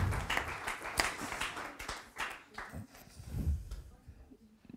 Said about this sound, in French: on peut applaudir ce beau prix pour la CADEMA